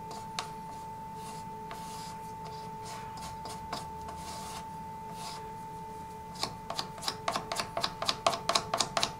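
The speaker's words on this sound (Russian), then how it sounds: "Эту шпаклевку нужно прямо вот нанести таким образом, чтобы она всю щель забила." Putty is worked into a gap with a rubber spatula, giving soft rubbing strokes over a faint steady hum, then a quickening run of short, sharp scraping strokes toward the end.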